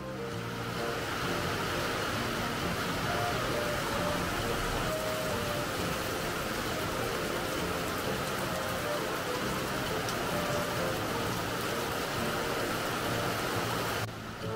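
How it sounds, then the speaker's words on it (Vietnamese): Heavy tropical rain pours down at a floating village on Tonle Sap near Siem Reap, a dense, steady hiss of drops that holds evenly throughout before cutting off at the very end. "Nó vừa mới nắng rất to xong và bây giờ thì nó cũng mưa ầm ầm."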